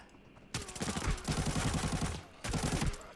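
Gunfire in the shooter game Arena Breakout: two loud, dense bursts of rapid automatic fire, the first longer and the second shorter after a brief gap, with a faint lead-in before.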